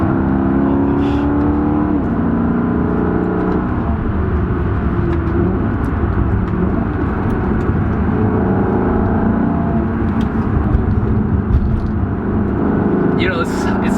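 A Maserati GT's engine drones loud and continuous as the car is driven through mountain bends, pitch shifting with the throttle, while a person talks over it.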